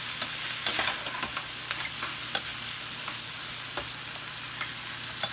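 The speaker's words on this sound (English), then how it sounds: "And just keep stir frying it around." Pork and rice stir fry in a hot pan, a steady soft sizzle with scattered scraping and stirring clicks from the utensil, close and fairly quiet with no talking.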